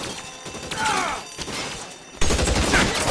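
Gunfire from a Tommy gun in the 1940s crime game LA Noire, a steady rattle of shots over a dense background that grows louder and heavier near the end, with faint voices mixed in.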